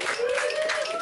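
An audience at a Chicago talk claps together in a short burst, a dense patter of hands that stays even throughout.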